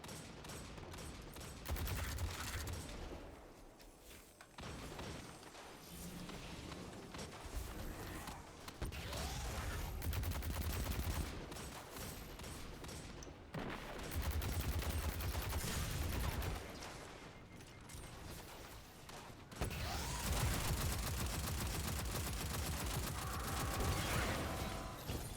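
Sustained video game gunfire, long stretches of loud dense shooting with brief pauses between bursts, mixed with mechanical clatter and game effects and no talking.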